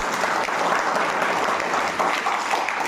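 A church congregation applauds steadily for a few seconds, a dense, even patter of clapping hands at moderate volume.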